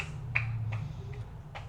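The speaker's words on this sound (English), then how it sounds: "Someone is clapping on the footpath behind, interesting." Sharp claps from someone on a footpath outside, a handful of distant, irregular hand claps over a steady low indoor hum.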